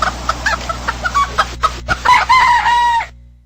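Rooster crowing from the Sound Voyager Game Boy Advance mini-game collection, a series of short clucks followed by a loud, drawn-out cock-a-doodle-doo that fades at the end, heard alone.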